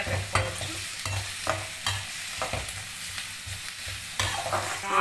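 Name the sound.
sautéing onions until golden brown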